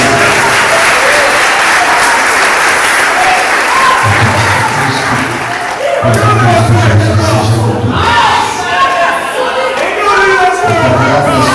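A Pentecostal church congregation at a youth congress gives loud, sustained applause that keeps going throughout. A voice and crowd noise come through the clapping.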